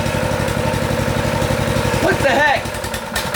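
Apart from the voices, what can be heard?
engine being started with the choke on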